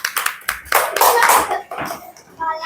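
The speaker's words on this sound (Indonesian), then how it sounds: "Tepuk tangan buat kelompok 3." Classroom children clap for a group in scattered, uneven bursts, a few sharp close claps at first, with children's voices mixed in and over the clapping.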